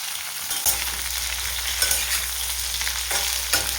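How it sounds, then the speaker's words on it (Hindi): Jackfruit pieces fry in oil over a low flame while being stirred, giving a steady, close sizzle broken by scraping stir strokes, with no voices. "अब इसमें हम कटहल के पीस को डाल करके अच्छी तरह से फ्राई कर लेंगे।"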